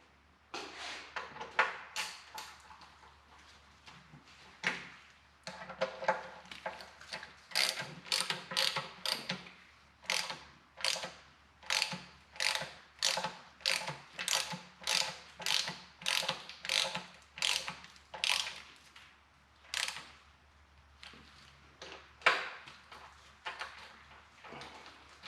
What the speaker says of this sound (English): I can put the shorter bolts in here and draw it on up with those